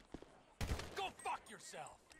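A single sharp gunshot bursts out in GTA 5, followed by a busy stretch of game noise and effects with some voice-like sounds mixed in.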